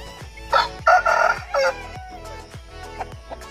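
A rooster crows nearby, one loud cock-a-doodle-doo near the start, while a rhythmic mechanical ticking runs through the whole short clip and no one speaks.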